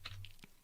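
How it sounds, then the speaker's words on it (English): Fingers type on a computer keyboard while entering Linux command-line commands, a few faint, quick key clicks close up in a quiet room. "I can do that by typing"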